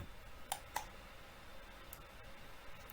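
Two quiet computer mouse clicks land close together near the start, followed by a few fainter ticks over soft room hiss.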